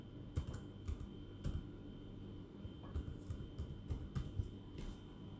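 A computer keyboard clicks steadily as a passphrase is typed. Irregular bursts of keystrokes and occasional heavier key presses sit over a low, constant background hiss, with no voices.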